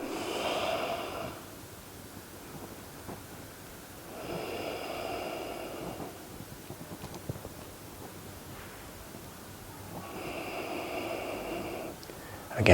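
Slow, deep breaths during a yoga class, three long airy exhalations spaced several seconds apart, close and soft, with quiet rustling between them and no talk.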